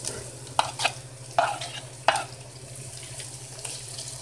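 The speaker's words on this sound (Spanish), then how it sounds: "Y vamos a freír hasta que dore un poco." Beef frying in a pot under a soft sizzle, with several close scraping stirs early on and a low steady hum throughout.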